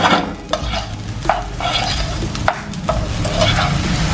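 Chinese fried rice with spring onion and Chinese chives is stir-fried in a pan over a constant sizzle. A utensil scrapes and knocks against the pan in repeated strokes, up close, with no voices.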